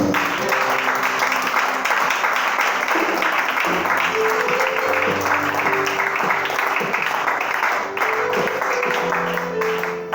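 Church congregation applauding the Lord at a French-language worship service, a steady dense wash of clapping lasting throughout, with sustained tones and voices mixed in beneath the applause.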